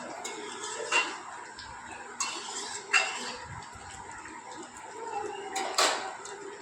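A spoon stirs dhoka curry with garam masala in a metal pan, giving a few sharp scraping clinks spaced a couple of seconds apart over a quiet kitchen background.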